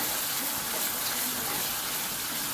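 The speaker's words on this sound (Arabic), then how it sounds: "ونحط شويه ميه" Water poured into a cooking pot while making Egyptian koshari tomato sauce, a steady gushing, splashing flow heard close up and alone for the whole stretch.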